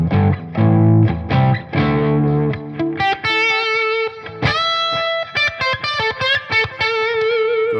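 An electric guitar on a Gibson R9 bridge pickup, volume and tone at full, driven through a ToneX JS Fried Plex amp model: loud distorted chords ring out, then quicker picked riffs and single notes follow with short gaps.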